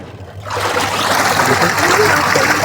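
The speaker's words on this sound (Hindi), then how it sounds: "पानी चलना स्टार्ट हो गया" Water from the supply starts rushing into a washing machine after a quiet half second, then runs as a loud, steady gushing splash until the end.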